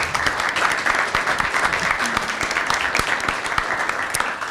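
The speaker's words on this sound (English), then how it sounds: "So if we can please give them a round of applause." An audience at an event on public higher education funding applauds, a dense, even wash of many hands clapping at once, sustained and fairly loud throughout.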